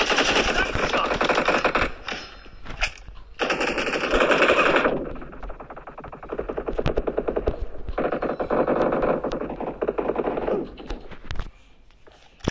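Automatic gunfire in the mobile battle game PUBG Mobile rattles in dense, loud bursts separated by brief gaps, with sharp echoing shots and synthetic game effects throughout.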